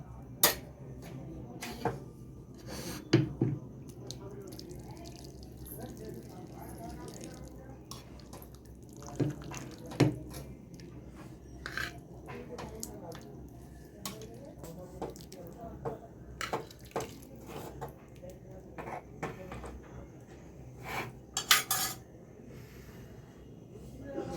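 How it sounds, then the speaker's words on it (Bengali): Chicken stew is ladled into a bowl with scattered wet drips, splashes and soft clinks, quiet and intermittent, with a few louder knocks of utensils against the dish. "তো আমি এবারে এটাকে বাটিতে ঢেলে নেব।"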